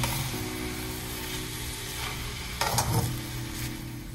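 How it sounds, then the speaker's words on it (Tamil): Spinach keerai sautéed on high gas flame for a spinach and coconut curry, a continuous loud sizzle with stirring scrapes and a brief clatter midway, no voices. "இது நம்ம ஒரு 5 மினிட்ஸ் இந்த மாதிரி ஹை ஸ்பீட்லயே வதக்கலாம்"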